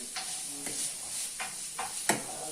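İçli köfte mixture being stirred, heard as soft wet scrapes and brief squelching strokes at an uneven pace against a faint hiss, close and quiet.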